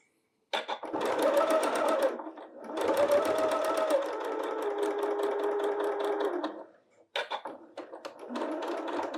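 A sewing machine stitches quilt block pieces together, running in loud, close bursts of rapid, rhythmic needle chatter. Two longer runs are split by short pauses, and a final stretch of stitching follows a brief stop.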